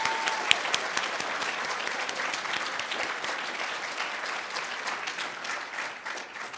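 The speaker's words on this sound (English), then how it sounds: "let's give you a round of applause, please." Sustained applause from a crowd at a nursing pinning ceremony, dense and steady throughout, easing off slightly toward the end.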